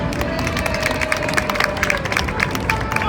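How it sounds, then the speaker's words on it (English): A theme-park audience at the Toy Soldier show in Hollywood Studios claps and cheers, a dense crowd wash with scattered sharp claps that holds steady throughout. "let's give a round of applause"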